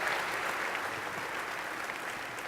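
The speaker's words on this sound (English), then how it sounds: "I do hope that everyone in this room will give you and Linda a warm round of applause" A roomful of people at a chamber of commerce annual meeting claps steadily for community service, a dense, unbroken patter of applause holding at even loudness throughout.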